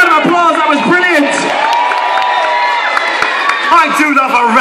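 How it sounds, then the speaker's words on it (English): Crowd at a Christmas 2013 event in Golden Square, Warrington, cheers, whoops and shouts loudly and continuously, with clapping mixed in and voices carrying throughout. "Give yourselves a big round of applause."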